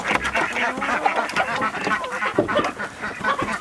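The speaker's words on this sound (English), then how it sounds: "Oh, we got the ducks." Ducks quack in a busy, overlapping chorus on a homestead as the flock is let out, with nasal calls crowding together continuously and fairly close.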